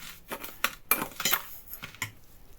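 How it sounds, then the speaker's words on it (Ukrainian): A spoon stirs a dry salt curing mixture for red fish in a bowl, with a quick series of metallic scrapes and clinks, close and fairly quiet, with no voices. "Все, добре це перемішуємо"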